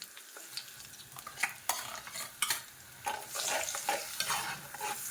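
A blended paste of onion, garlic, ginger and tomato sizzles and fries in a pan, with a spoon scraping and stirring in irregular bursts, close and fairly quiet, with no voices.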